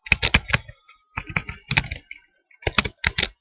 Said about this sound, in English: in cell A1, I'm going to type my name